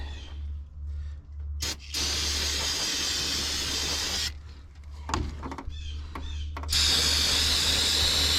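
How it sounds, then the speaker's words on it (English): Brake cleaner sprayed from an aerosol can in long, loud, close hissing bursts over a low steady hum, with short clicks and pauses between sprays. "Hit it again with some brake clean."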